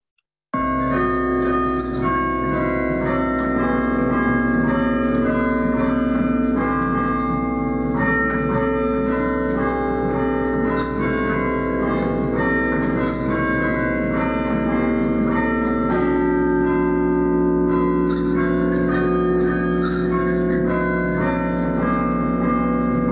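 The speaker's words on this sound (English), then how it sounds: "played Ode to Joy for us on the bells" Ode to Joy rung on bell tower bells, a steady melody of clear ringing tones that overlap and sustain, continuing at even volume with no voices.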